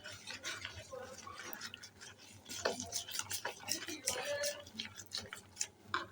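A spiced flour-and-water batter for potato iftar snacks being stirred in a bowl, giving a quick, steady run of soft scraping and tapping strokes up close.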